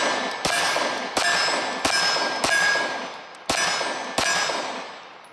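A Ruger LCP II pistol fires six sharp, loud shots at uneven intervals, each crack followed by a ringing metallic decay, with no voices.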